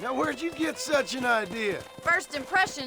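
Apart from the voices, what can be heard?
No everyday noise stands out behind the speech.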